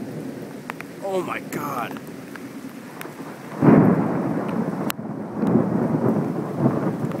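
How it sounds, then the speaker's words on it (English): A thunderstorm with heavy rain hissing steadily and a loud rumble of thunder that swells midway. Excited exclamations rise above the storm early and again near the end. "Holy shit, that's a lot of lightning."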